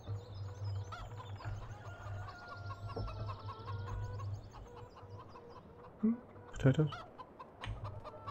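Chickens in Farming Simulator 2017 cluck softly in the background over a steady low engine-like hum, with a few sharper calls near the end. Someone speaks briefly.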